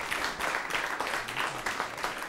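Farmers applaud together at a televised Budget 2019 discussion, a steady spread of clapping at moderate volume that runs through the whole moment without any talk.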